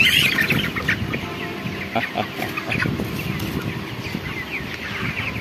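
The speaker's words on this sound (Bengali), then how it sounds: "আজকে আমরা আপনাদেরকে কয়েকটা মুরগির ওজন করে দেখানোর চেষ্টা করব" Chickens in a poultry shed at about 28 days old cluck and chatter continuously at close range, a busy flock murmur with scattered sharper calls.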